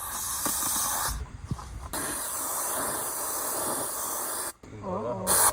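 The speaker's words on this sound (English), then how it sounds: "Now it's time to twist our spray foam on." Spray foam can spraying insulation onto a basement rim joist in an old house: a loud, steady hiss lasting several seconds, briefly interrupted, then resuming, with a short pause and a brief burst near the end.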